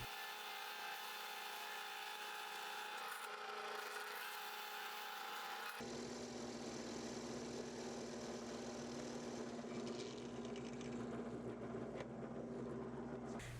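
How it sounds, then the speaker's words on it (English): A drill press bores pinholes through G10 and micarta knife scales clamped to the knife, a steady whirring motor with a grinding, rubbing cut that shifts character partway through, continuous and close. "take them over to the drill press and drill"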